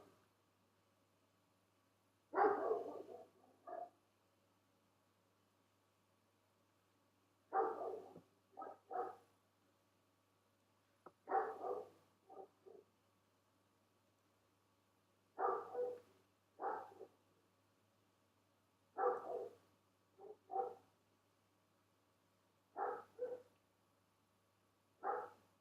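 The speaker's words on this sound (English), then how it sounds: "Oh, Lord, that dog." A dog barks in short bursts of two or three yaps, repeating every few seconds at a moderate distance over a quiet indoor background.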